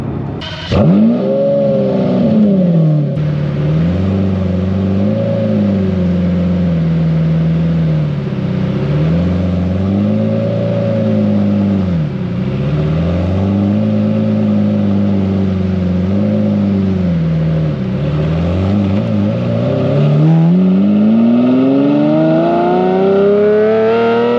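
A Lamborghini Murcielago V12 with a manual gearbox revs loudly and close up, climbing through several gears with repeated rises and dips in pitch at each change, and a strong final surge of acceleration.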